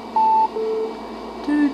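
Short electronic beeps sound in the 1999 video game Resident Evil Nemesis: three clear tones, each lower in pitch than the last, spaced apart over a steady hum of game ambience.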